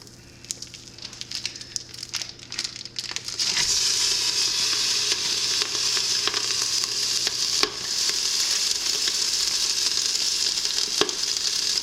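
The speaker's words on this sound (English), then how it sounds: "I have my oil heating and I'm gonna add this meat. And we're gonna cook that." Italian sausage meat drops into hot oil and fries, going from quiet clatter to a strong, steady sizzle with occasional stirring scrapes, no talking.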